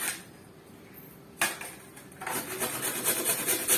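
Jaggery being crushed and pounded into pieces by hand in a kitchen, giving close, uneven rasping and grinding scrapes that turn louder and steadier after a sharp knock partway through.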